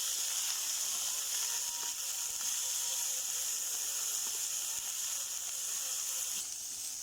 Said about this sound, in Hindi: 2 अदद प्याज लिए थे, इनको ब्रीक ब्रीक काट कर लिया। तो इनको भी जो है ना इसके साथ फ्राई कर लेंगे।